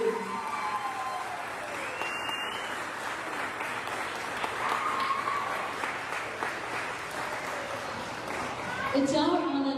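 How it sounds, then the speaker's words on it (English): An audience at an 8th grade graduation ceremony gives sustained applause, a dense wash of clapping with scattered cheers and children's voices rising and swelling toward the end. "Big round of applause for your students."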